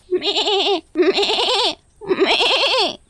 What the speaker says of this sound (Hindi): उसे कहीं से बकरी के मिमियाने की आवाज सुनाई पड़ती है